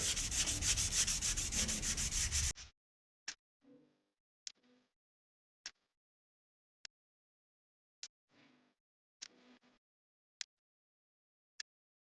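A repaired, previously bent car door edge is block sanded, with a few seconds of rapid, loud rubbing strokes, then near silence broken by faint scrapes and sharp clicks.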